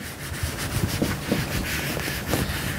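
A cloth rubs cleaner into the exhaust pipe of a GoPed scooter, making a close, steady scrubbing swish in quick back-and-forth strokes.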